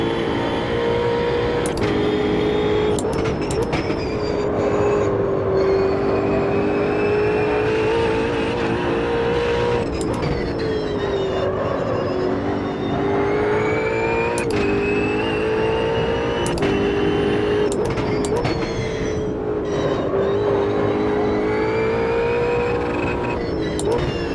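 Race car engine in the Automobilista 2 sim racing game, a steady high-pitched drone holding in one gear with slight pitch swells and brief shifts in tone, loud and continuous throughout while someone talks over it.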